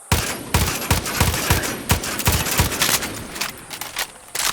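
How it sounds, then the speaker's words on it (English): Rapid volley of rifle shots from a unique rifle in the video game Far Cry 6, about twenty loud, sharp bursts in quick succession with no talk. "let's fire the 20 rounds at it"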